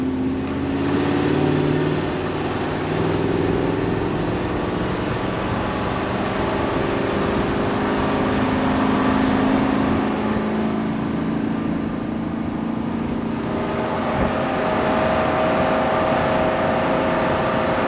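Vortec-engined truck grinding up a steep climb in first gear, a steady loud low engine drone with rising and falling strain throughout, no voices.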